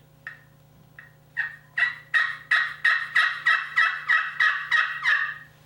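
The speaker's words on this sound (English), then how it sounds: "let's see what the carbon tip striker sounds like on the slate." Raspy yelps from a slate turkey call played with a carbon-tip striker, about a dozen in a steady rhythm, starting soft and growing louder, heard up close.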